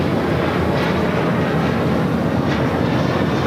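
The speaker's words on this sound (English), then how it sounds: "Delta Airlines flight 1875, 737-800" A Delta Airlines Boeing 737-800 jet at LAX gives a continuous broadband engine roar, loud and close, steady throughout with no voices.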